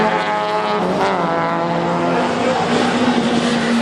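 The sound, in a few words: race cars at a racing competition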